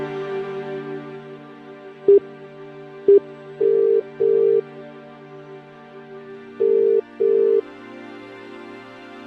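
A phone call is placed and the line rings back in short paired tone bursts, two pairs a few seconds apart, over a steady humming tonal background.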